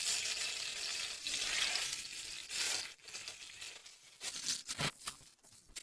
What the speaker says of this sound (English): The starch-coated fish sizzle in the pan.